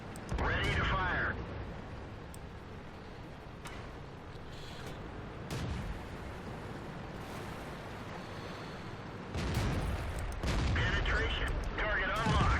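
Tank cannon blasts in a combat video game: a heavy, booming shot near the start and a longer roaring burst toward the end, with a rumbling engine-like drone between them and voices talking over it.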